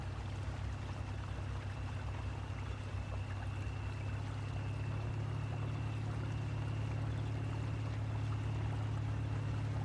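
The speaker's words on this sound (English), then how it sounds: "Pretty neat effect with the water sounds. I guess there's a little creek or something runs down there." A small creek running in the off-road driving game Spintires gives a soft, continuous water trickle under a steady low engine hum, with no talk.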